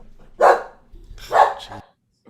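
A dog barks twice in close succession, loud and near, each bark a short burst with a brief pause between, then quiet.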